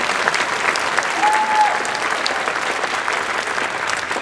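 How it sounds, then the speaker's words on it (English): A banquet audience breaks into loud, continuous applause, a thick wash of clapping throughout with a brief tonal whistle near the start. "Clap for her, not me."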